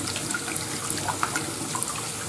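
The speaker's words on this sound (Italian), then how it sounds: "faccio scendere anche l'acqua dal lavandino che è pieno" Water draining out of a full bathroom sink, a steady gurgling, trickling rush close by with small splashes and bubbles, heard alone without talk.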